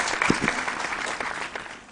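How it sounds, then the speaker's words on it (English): Applause from a quiz show audience welcoming a new school team member, a brief steady patter of clapping that fades slightly over two seconds, with no voices on top. "A round of applause for our new team member"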